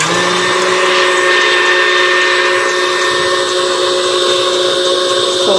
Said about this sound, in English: put in this KitchenAid, and we're going to beat it on high until we get some whipped cream